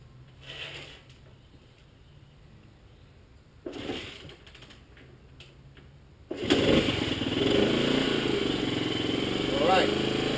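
A 1963 Honda C105T Trail 55 motorcycle is kick-started with the choke on: a couple of faint kicks and clunks, then the small engine catches and runs at a steady, busy idle.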